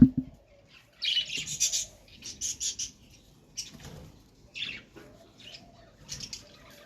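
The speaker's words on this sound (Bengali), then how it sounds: "এদিকে আমাদের পাখিগুলো চিৎকার করে যাচ্ছে" Pet birds screech indoors in a run of shrill, close bursts, some short and some drawn out, with brief quiet gaps between calls.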